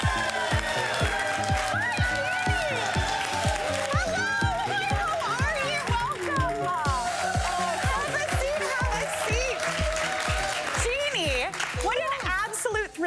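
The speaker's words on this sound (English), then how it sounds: "What an enthusiastic crowd." A studio audience claps and cheers loudly and continuously as a guest is welcomed onto a talk show, with a rhythmic beat of music running beneath the applause.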